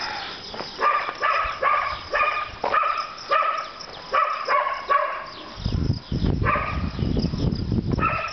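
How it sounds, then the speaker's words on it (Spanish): Several dogs bark repeatedly at dawn in Chilete, Peru, in quick bursts, some nearby and loud, others overlapping, with a rougher growly stretch toward the end. "Se escucha los canes, siguen ladrando."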